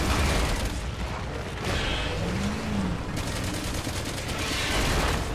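Dense, continuous gunfire from Resident Evil 6 in a Leon campaign finale, a loud unbroken fusillade of rapid shots and booms running the whole stretch with no talking over it.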